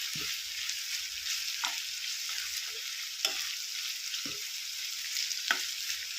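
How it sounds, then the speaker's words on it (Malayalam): Chopped ginger fries in hot oil in a pan, a soft steady sizzle broken by several scraping stirs at irregular intervals, close and quiet with no talking. "ഇഞ്ചി ഇട്ടിട്ട് ഒരു മൂന്ന് മിനിറ്റൊക്കെ കഴിഞ്ഞിട്ടുണ്ട് ഇനി നമുക്കിത് ഇളക്കി കൊടുക്കാം"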